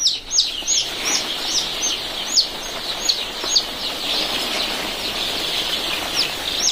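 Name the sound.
chicks chirping in a local desi chicken farm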